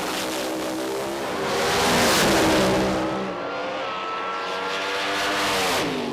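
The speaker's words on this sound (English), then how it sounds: "that's Harold Martin, lined up alongside your pick, Jason Hamstra, that awesome-looking Corvette" Drag racing cars, including a fuel-injected Corvette with a Cohen torque converter, launch at an IHRA nationals event, a loud engine roar that surges, dips and swells again as revs climb, with an audible shift near the end.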